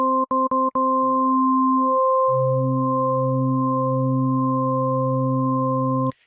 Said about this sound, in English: now, these are all sine waves,